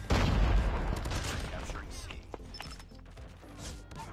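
Gunfire in Call of Duty Mobile, with dense bursts of assault rifle shots that open loud and continue as scattered cracks and impacts, while a player talks faintly underneath.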